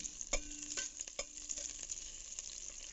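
Garlic is sautéed in a pan still oily from frying smoked fish, with a soft continuous sizzle broken by a few scraping stirs of the utensil, all fairly quiet and without speech.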